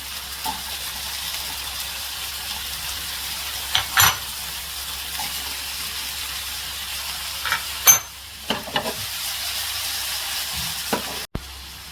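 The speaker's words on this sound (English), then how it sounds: "and cook the meatballs. Then add the colorful peppers" Meatballs and colorful peppers fry in a pan with an even, close sizzle, broken by a few louder stirring clatters and scrapes, ending in a sharp cut; no speech.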